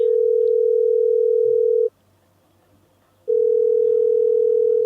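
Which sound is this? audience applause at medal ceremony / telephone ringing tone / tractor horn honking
telephone ringing tone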